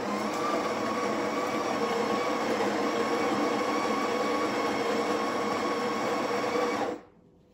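Built-in grinder of a Breville Barista Express BES870 espresso machine grinding coffee beans, a steady loud whirring drone held for about seven seconds, then cutting off abruptly.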